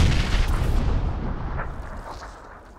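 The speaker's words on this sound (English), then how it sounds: "Grenade!" A video game grenade blasts close by, a loud broad boom that rolls off and decays over a few seconds.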